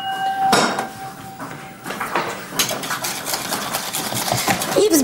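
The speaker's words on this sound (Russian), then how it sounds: "Взбиваю до образования густой воздушной массы." Heavy cream of 33–35% fat being whipped with powdered sugar into a thick airy mass: a close, continuous whirring of a mixer with clattering and scraping against the bowl, bright and busy throughout.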